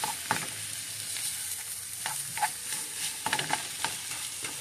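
Bite-sized pieces of maple sausage and sausage links sizzle in a pan, a steady moderate hiss with irregular clicks and scrapes as they are stirred, close by and without talk.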